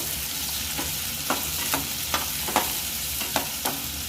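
Sliced onions and green chillies frying in hot oil in a pan, a steady close sizzle broken by sharp scraping taps of a spatula stirring at irregular intervals, with no talking.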